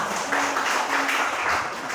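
A church congregation bursts into steady applause at a village worship service, a dense wash of many hands clapping close by, with no one speaking over it.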